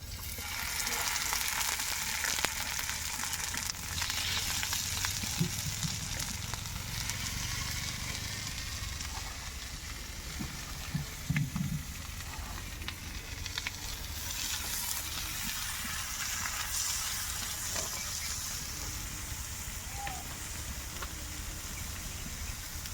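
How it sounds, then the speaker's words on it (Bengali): Snakehead fish fry in hot oil, a soft continuous sizzle and crackle with faint occasional stirring bumps, fairly quiet and steady throughout with no talking. "মাছগুলো আমি ভেজে নেব"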